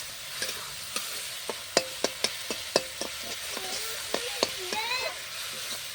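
Chicken fries in a pan with ginger, garlic and onion paste, a steady sizzle under a regular run of sharp scrapes and taps from a spatula stirring against the metal, close by.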